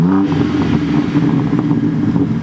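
A 2021 BMW M4 Competition engine idling after a cold start, a loud, close, steady low rumble with a slight lumpy pulse.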